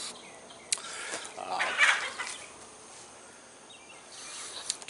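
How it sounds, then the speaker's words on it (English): Chickens fighting, with a burst of squawking and agitated clucks rising briefly in the middle before fading, over a faint outdoor background with insect buzz. "chicken fight."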